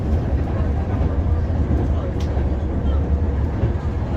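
A train rolling from Bucharest toward Piscu Nou in Romania, heard from inside as a steady low rumble and hum that continues without break.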